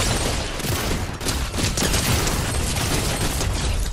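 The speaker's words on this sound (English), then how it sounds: "we got people shooting us" Dense, continuous gunfire fills a Fortnite duo match during a 4th of July event, with rapid overlapping shots and booms, loud and close throughout.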